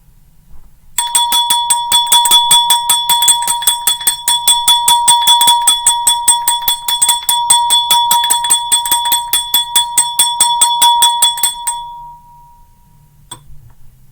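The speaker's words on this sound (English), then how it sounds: "Let's ring this bell for luck." A bell rung for luck clangs in rapid, even strikes, bright and ringing, kept up for about eleven seconds before stopping abruptly, followed by one last faint tap.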